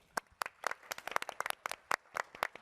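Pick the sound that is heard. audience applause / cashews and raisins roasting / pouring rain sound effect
audience applause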